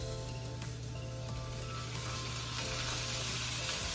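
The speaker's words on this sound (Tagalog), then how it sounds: "Then, we're gonna add our ground pork." Ground pork fries in a pan with onions for ginisang sitaw with oyster sauce, giving a continuous dense sizzle that holds steady and close throughout, with no talking.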